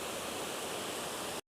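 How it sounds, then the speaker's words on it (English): A burst of spray hisses onto a Barbados cherry plant being treated for mealybugs and aphids, a loud, continuous rush of noise lasting just over a second before cutting off abruptly into silence. "So I'm gonna put the phone down so I can spray"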